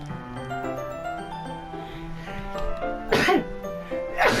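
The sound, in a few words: sneeze in video game Doki Doki Literature Club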